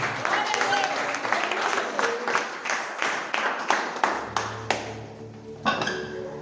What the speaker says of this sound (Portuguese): Tome o seu lugar aplaudindo ao Senhor